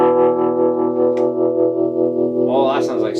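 A sustained, harmonically rich electric guitar chord through a Fender Mustang LT25 amp's vintage tremolo effect pulses with a steady, rapid wobble, then brighter notes ring out near the end.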